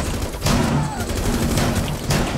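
Grenade blast and rapid gunfire in Rainbow Six Siege during a hostage rescue, a loud burst near the start followed by sustained dense shooting and a second surge near the end, with voices underneath.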